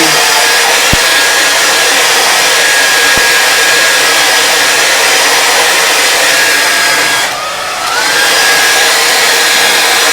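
A hair dryer blows loudly and steadily over wet paint on a mountain landscape painting, with a brief dip in its whir near the end before it resumes.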